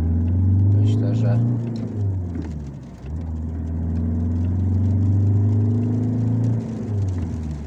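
Fiat Stilo 1.9 pulling steadily from the cabin, a low continuous engine drone with tire and road rumble, and someone speaking over it throughout.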